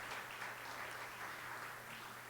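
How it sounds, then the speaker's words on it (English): A conference audience at a national development session gives another round of applause after the Ombudsman's presentation; the clapping is soft and distant but continuous, with a low hum beneath it. "Let's give the Ombudsman another round of applause for her presentation."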